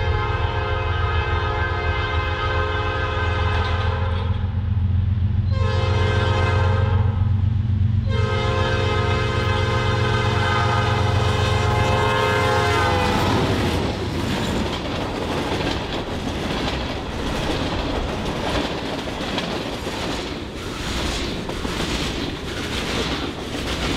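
A southbound freight train on a Michigan Upper Peninsula line sounds a loud, sustained horn in several blasts, then rolls past close by with steady rumbling and clattering wheels through a banked curve.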